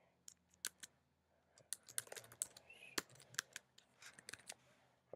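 Quick taps on a computer keyboard while a username is entered into a web hosting login form, close and crisp, scattered irregular keystrokes with short pauses, no talking.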